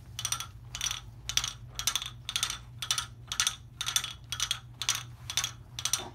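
A quilt rolled onto a Baby Lock Regalia long arm quilting frame gives a steady series of about a dozen crisp ratcheting clicks, evenly spaced, over a low, constant machine hum.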